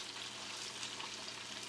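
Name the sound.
portobello mushrooms sizzling in pan after flipping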